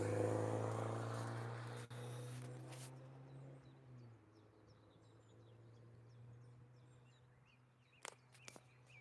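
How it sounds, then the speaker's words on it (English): An old Porsche car drives past on the Nürburgring, its steady engine drone loud at first then easing into a lower, more distant hum, with faint ambient noise and a couple of brief clicks near the end. "What's this? An old Porsche."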